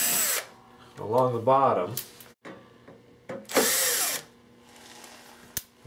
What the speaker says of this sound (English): We remove the screws from the end, and then the 4 screws